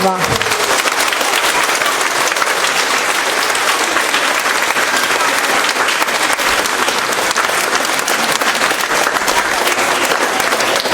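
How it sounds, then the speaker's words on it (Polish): Dense, steady applause from an audience at an art gallery opening for a drawing and painting academy in Lublin, loud and continuous for the whole stretch with no gaps. "Wielkie, ogromne brawa!"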